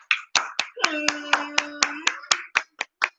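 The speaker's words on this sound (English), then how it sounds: "Clap it up for the new people." Two people clap hands on a live talk show, a dozen sharp, close, separate claps in loose rhythm, with a sustained sung voice running over the middle claps.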